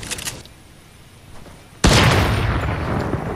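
Pistol gunfire in the video game Fortnite, a few sharp shots near the start, then a loud burst or blast that carries on to the end.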